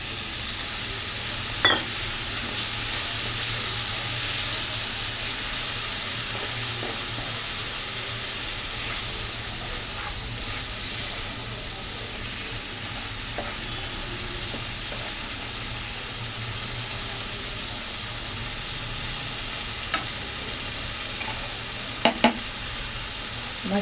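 Leafy greens sizzle steadily in a hot pan after a splash of water, a continuous close bright hiss with a few faint clicks of stirring and no talk.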